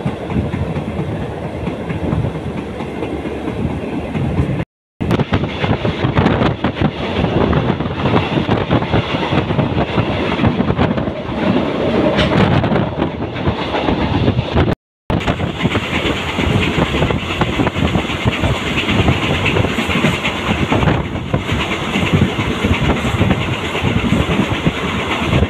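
Thai passenger train number 135 from Phachi to Saraburi rolls past for a long stretch, a loud, steady roar with rhythmic clickety-clack of wagons over the rails and some wind buffeting, briefly cutting out twice.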